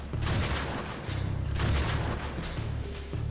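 Small turrets in the video game Wrack fire in dense bursts, a crackling fusillade of rapid shots with low booms underneath, loud and continuous with brief dips between volleys.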